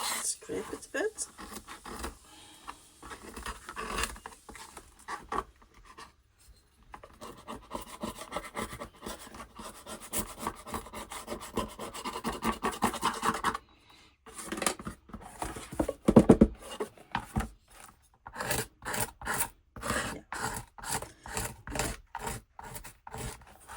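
Palette knife scraping texture paste on a junk journal page in a botanical style, giving repeated rasping, rubbing strokes up close in short bursts, with quieter pauses between.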